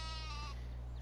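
Sheep bleating in the video game Farming Simulator 17, a single clear nasal bleat heard over a steady low engine hum from a tractor, no talking.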